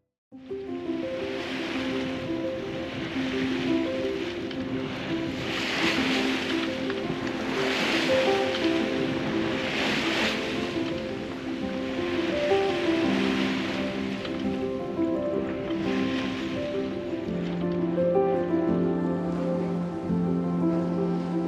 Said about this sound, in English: this is beautiful flat water sailing in the lee of the islands